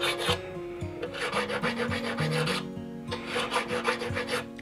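A fret crowning file rasps back and forth over guitar frets in quick, even close strokes, two long runs of rhythmic scraping separated by a brief pause, with no voices.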